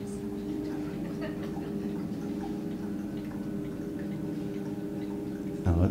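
An audience imitates a ticking clock with many voices, producing a steady, overlapping stream of soft clicking and tocking sounds, moderately quiet and continuous, ending with a louder burst.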